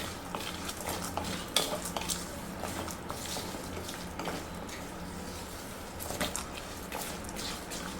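Lentils frying in a pan for mango rice, with steady stirring scrapes and light clinks of a spoon against the pan over a soft sizzle, close and continuous.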